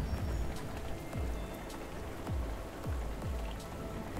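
Soft, steady rain patters on the outside of a moving train, a continuous gentle wash with occasional low thumps beneath, calm and without voices.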